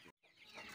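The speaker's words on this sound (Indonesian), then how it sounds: "Ini ayam kampung ya sahabat." A village chicken of Bangkok descent clucks faintly in a brief farmyard moment, soft and close with a short gap, no talk.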